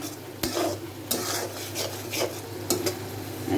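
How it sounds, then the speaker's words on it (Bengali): Spices for a tomato fish curry being stirred and sautéed in a pan, with repeated scraping strokes of a spoon against metal over a low background sizzle, close and moderately loud, no talk. "এখন মশলাটা ভালো করে কষানো হোক।"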